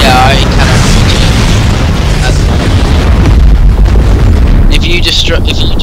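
Loud ship explosion in the space combat game Fractured Space, a dense booming roar sustained throughout with crackling bursts, ending in bright metallic ringing.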